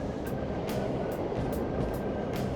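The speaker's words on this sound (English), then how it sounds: "It's a train!" A subway train rumbles past in the Persona 5 video game, a steady low roar with faint rhythmic clicks of wheels on track joints, alone with no talk.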